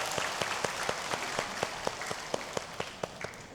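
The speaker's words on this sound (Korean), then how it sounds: "하나님께 영광의 박수 올려드리겠습니다." A church congregation claps in glory to God during a Sunday worship service, a steady run of distinct hand claps in an even rhythm that carries on, moderately loud, with no voices over it.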